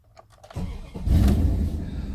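A 2000 Dodge Durango with the 5.9 engine cranks and fires up, a short starter churn followed by a loud, close engine catch and a rising rev that settles into a strong running rumble.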